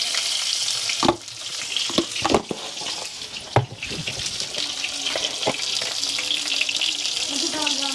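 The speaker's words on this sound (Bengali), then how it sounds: "বেগুনটাও লাল লাল করে ভালো করে ভেজে নেব।" Eggplant seasoned with salt and turmeric fries in a pan, giving a continuous sizzle broken by sharp stirring knocks and scrapes, with faint talk in the background.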